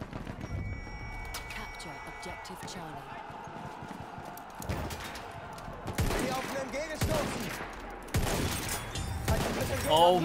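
Shots in Battlefield 1 gameplay, an irregular series of sharp cracks that cluster toward the end, mixed with game noise and a player talking over them.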